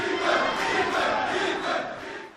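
A vast crowd in Lubumbashi roars and chants in acclaim for presidential candidate Moïse Katumbi after his release, a dense and sustained wall of voices.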